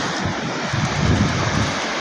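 Gullfoss waterfall in Iceland roaring in a steady, broad rush of falling water, continuous and fairly loud, with no voices over it.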